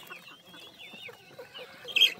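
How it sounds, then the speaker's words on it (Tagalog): Chickens cluck steadily while eating food scraps, a close, busy flock with soft overlapping calls and a louder squawk near the end. "So dito may kita natin na lahat kinakain ng mga manok."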